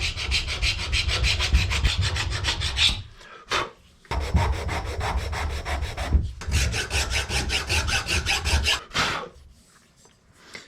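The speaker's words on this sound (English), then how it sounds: "first off, let's get this paint off of here. I'll use this scraper just to get started." A hand scraper rasps paint off a boat engine's metal flange in long, rhythmic back-and-forth strokes, loud and close, with two brief pauses between bursts of scraping.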